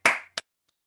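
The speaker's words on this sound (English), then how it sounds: "I'm going to give a round of applause" Two claps in quick succession close to the listener: a strong, slightly ringing first clap followed by a shorter, sharper second one, then silence.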